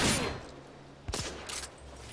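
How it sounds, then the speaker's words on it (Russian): Gunfire in the video game The Order: 1886, with a sharp shot near the start and a couple of further bursts about a second later, set against a quiet, dark night-time background. "На звуки стрельбы и взрывы гранат в ночи"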